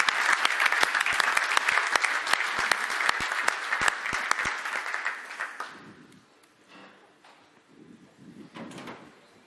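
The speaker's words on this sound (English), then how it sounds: "Huge round of applause." Audience applause at the unveiling of the Audi Formula E e-tron FE04 race car: dense, loud clapping from a crowd for about six seconds, then fading into scattered claps and murmuring.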